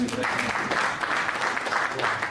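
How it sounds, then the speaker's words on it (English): An audience clapping at a stakeholder policy dialogue on a national blockchain policy, a steady burst of applause from a room full of people, close and continuous throughout. "Please clap one more time."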